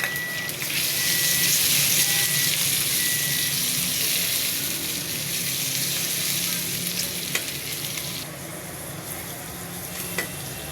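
Ginger, onion and tomatoes fry in a pan with a loud, continuous close sizzle and hiss, occasional faint clicks of a spoon, and no voices.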